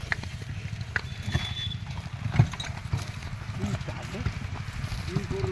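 Hooves of a horse pulling a cart on a farm clip-clop in an uneven, fairly close patter, with a man calling out and speaking over the steps.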